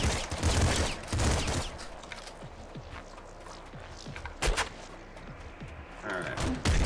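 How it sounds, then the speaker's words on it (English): Nuclear Throne combat: bursts of rapid gunfire and booming grenade-launcher blasts hit in loud clusters, with quieter ticking and step-like patter between them. "the grenade launcher is a little nicer because it does just go off on contact"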